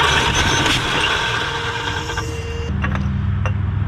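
A 1965 Mustang engine cranks over without catching, a dense mechanical churn with a metallic whir that drops into a lower, steadier drone partway through, close and fairly loud.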